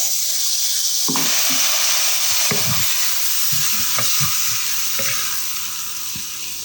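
Onion, tomato and roasted gram flour masala sizzling in a hot pan as water is added and it is stirred, with a steady hiss and bursts of scraping, bubbling stir strokes, close up.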